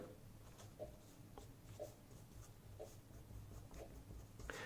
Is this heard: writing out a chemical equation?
yes